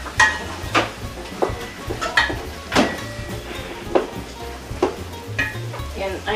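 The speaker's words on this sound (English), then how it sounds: "we're going to just kind of get this stir together until it's brown. So we're cooking the beef until it's brown." Ground beef sizzles in a pot for hamburger soup while a utensil stirs and scrapes against the metal in repeated close strokes, the frying hiss steady underneath.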